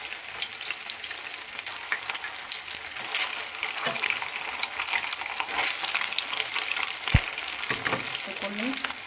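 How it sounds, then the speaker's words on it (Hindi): Semolina rasgullas fry slowly in oil over a low flame, giving a steady close crackling sizzle with occasional stirring clinks and a few louder pops. "तो कोल्ड फ्राई करके हमें धीमी आंच में सेकना है"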